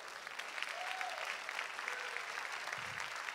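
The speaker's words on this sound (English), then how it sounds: "Give the Lord a hand clap." A church congregation claps for the Lord during a sermon, a fairly quiet and fairly distant wash of hands heard across the room, with a faint voice or two rising briefly above it.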